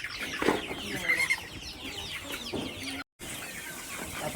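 Small chickens cluck repeatedly at feeding time on a farm, with close, irregular calls and a few brief wing flaps. A voice can be heard faintly in the background.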